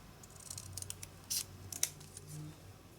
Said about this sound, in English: I'm going to cut it into 3.